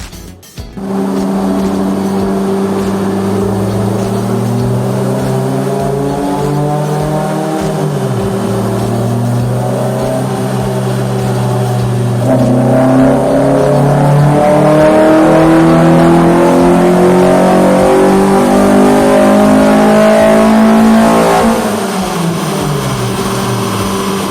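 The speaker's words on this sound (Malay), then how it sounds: "sekejap lagi kita try run kat dyno, tengok macam mana power dia" A Proton Waja's 1.8-litre twin-cam engine revs hard on a dyno, loud and continuous, with rising and falling harmonic engine tones climbing through repeated pulls and holding near full throttle toward the end.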